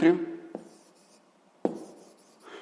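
Marker or pen scratching out numbers on a board during a sixth-grade math lesson, a few short strokes close by with a voice at the start.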